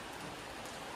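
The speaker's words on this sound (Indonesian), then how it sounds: "tapi ketika sampai hujan turun" Steady rain falls at the start of a hike on Mount Agung, Bali, a dense, continuous patter of drops on surfaces with no pauses throughout.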